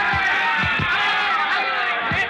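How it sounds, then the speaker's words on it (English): A crowd at a boxing fight in a radio drama roars as a continuous, loud din of many voices, with a few low thumps breaking through the steady noise. "the roar of the crowd"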